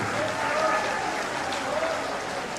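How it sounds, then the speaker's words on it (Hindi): Women in a crowd at a political rally in Nagaur clap loudly together, a sustained burst of dense applause with a murmur of voices underneath. "महिलाओं को ताली जोरदार बजाने चाहिए"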